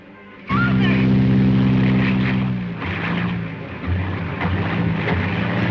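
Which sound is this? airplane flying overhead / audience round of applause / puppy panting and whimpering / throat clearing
airplane flying overhead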